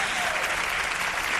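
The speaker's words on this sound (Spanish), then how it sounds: "os pido un aplauso para Jesús Callejo, nuestro primer invitado." Audience applause for guest Jesús Callejo at a congress, steady dense clapping filling the whole short stretch with no break.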